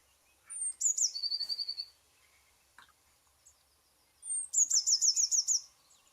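Small sparrow-sized birds with a blue cap give two bursts of high, rapid chirping calls, each a quick trill of repeated notes, clear and fairly close with quiet gaps between.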